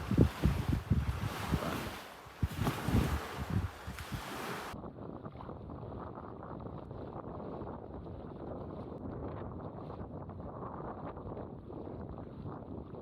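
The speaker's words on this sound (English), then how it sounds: "The wind is just howling out there" Strong wind howling across an open lake on a canoe route, blowing hard against the microphone as a steady roar with water noise. It is loudest and gustiest at the start, then settles to a slightly quieter constant rush.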